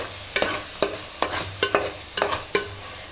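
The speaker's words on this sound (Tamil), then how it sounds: "நல்லா கிளறி விட்டுக்குவோம்." Tomato paste and chillies frying in a pan, stirred with a spatula in about eight crisp, evenly spaced scrapes over a soft sizzle.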